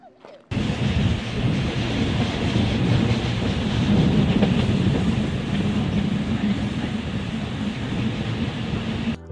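Bernina Express train running through the Swiss Alps, a loud continuous low rumble and rattle heard from inside that starts abruptly and holds steady to the end.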